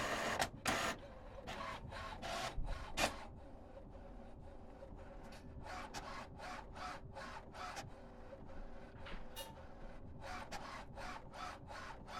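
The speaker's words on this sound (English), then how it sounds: "The printer is now printing the alignment page." An HP OfficeJet Pro 9015e all-in-one printer runs off an alignment page, its print carriage shuttling back and forth in repeated rhythmic bursts over a steady mechanical hum, close and moderately loud with no talking.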